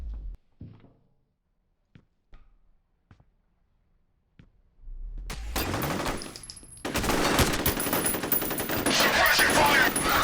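Dense, loud bursts of machine gun fire break out in the F.E.A.R. video game after a few scattered thuds and near silence, then become continuous rapid gunfire.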